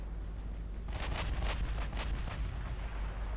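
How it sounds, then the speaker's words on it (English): Torpedo detonation in the naval warfare game Ultimate Admiral Dreadnoughts: a cluster of muffled, rumbling bursts over about a second and a half, layered over a steady low engine-like drone. "Here you go, torpedo detonation."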